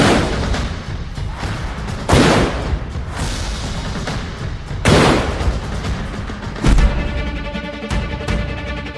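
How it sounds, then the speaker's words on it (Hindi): Indian field guns firing rounds at an Independence Day event, three heavy booms spaced a few seconds apart, each loud and close with a rolling rumble that trails off, under a continuous background roar. "ये है इंडियन फील्ड गन की ताकत"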